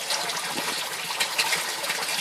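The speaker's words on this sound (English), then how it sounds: "What you're going to see is an avalanche of water come out of this pipe" Water rushes steadily out of an aquaponics siphon pipe, a continuous broad gushing and splashing that stays loud and even throughout, with no voices.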